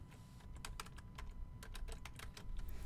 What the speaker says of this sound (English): Let's type it in right now.